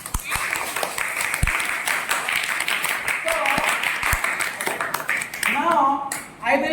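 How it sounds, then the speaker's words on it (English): A class of schoolchildren claps for a classmate, giving dense, steady applause from many small hands in a room, with voices chattering under it and one voice speaking near the end. "So let's give him a big round of applause"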